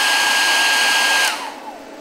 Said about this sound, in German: Jetzt hört ihr den Lüfter